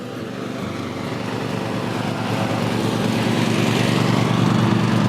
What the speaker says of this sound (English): while Dad's mowing